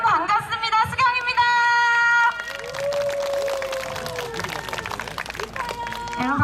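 Crowd applause and cheering greet a singer at an outdoor music show at Inje Speedium, a broad wash of clapping and shouts that continues steadily alongside music and an excited voice.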